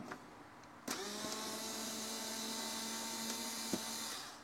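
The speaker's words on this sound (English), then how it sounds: "I'm using trusty old IKEA electric screwdriver" An old IKEA electric screwdriver running steadily for a few seconds, a thin motor whine with sharp clicks as it starts and near its end, close and fairly quiet.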